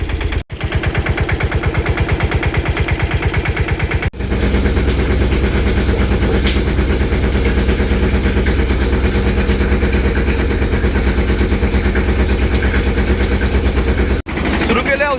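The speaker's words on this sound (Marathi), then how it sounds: "पोपट काका त्यांचा ट्रॅक्टर नेणार आहे, त्याला चालू करायला" A farm tractor, restarted for spraying pesticide, runs loud and close with a steady low pulsing chug that barely changes, broken only by two brief dips.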